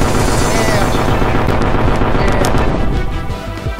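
Pistol gunfire from the PS1 video game Kaettekita Cyborg Kuro Chan comes as a loud, dense barrage of rapid shots and blasts, continuous for several seconds.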